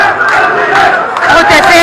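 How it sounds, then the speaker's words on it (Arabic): Protesters chanting slogans in unison at a demonstration against the budget outside the Lebanese parliament, a loud, sustained, close crowd of voices rising and falling. "هتافات السلمية"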